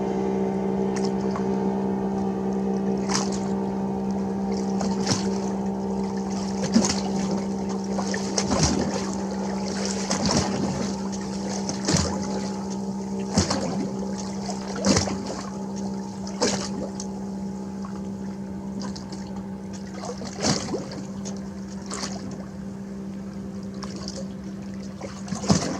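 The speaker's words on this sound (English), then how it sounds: "The boat's going right by me." A boat going right by at sea in big swells, a steady low engine drone heard throughout with repeated knocks and splashes from water slapping the hull, fairly close and without talk.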